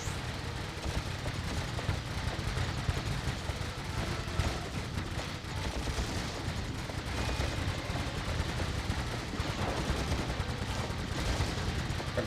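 Video game gunfire from Ratchet & Clank forms a dense, unbroken barrage of rapid shots and booming blasts that stays loud and constant throughout.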